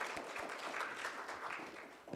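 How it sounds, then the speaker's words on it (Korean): A university committee presentation audience claps in a soft, steady patter, faint and somewhat distant, with a single louder clap near the end. "다시 한번 발표자에 대해 뜨거운 박수로 감사한 마음을 표했으면 좋겠습니다"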